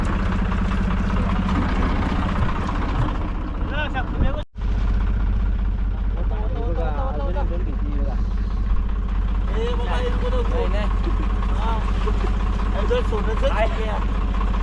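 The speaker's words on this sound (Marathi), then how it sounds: "पंप चालू आहे" A pump runs aboard a fishing boat at night, a steady low mechanical drone like an idling engine that holds through the whole stretch, with people talking over it.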